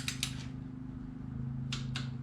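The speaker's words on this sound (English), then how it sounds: "Once it clicks, you know it's in torque." A torque wrench on an RB25DET timing belt job clicks twice at set torque, then twice more after a pause, sharp close metallic snaps over a steady low hum.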